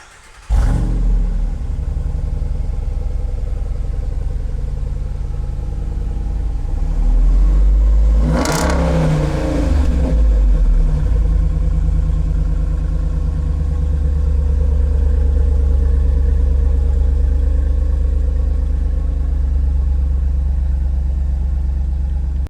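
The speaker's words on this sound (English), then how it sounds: "I can't wait to hear that exhaust system." A Jeep with a Hemi 392 V8 and a prototype Magnaflow aftermarket exhaust starts with a bark, settles to a deep idle, gives one sharp rev near the middle, then holds a loud, throaty rumble close by.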